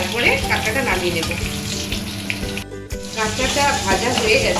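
Crab sizzles hard in a frying pan, a loud crackling hiss with stirring and scraping mixed in and a brief dip near the middle.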